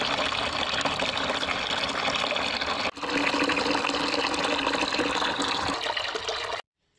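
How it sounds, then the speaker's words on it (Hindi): Tap water gushes steadily into a tub, a loud close rushing flow with a brief dip near the middle, then cutting off abruptly at the end. "मैंने टब में पानी भर लिया"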